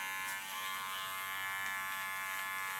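An electric hair clipper buzzes steadily and close up while cutting an asymmetric bob, a continuous harmonic drone with faint scraping textures and no talking.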